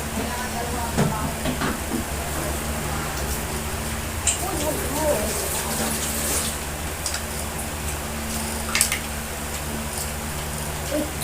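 Tap water runs steadily while someone washes up, a continuous hiss with occasional clinks, and voices talk over it.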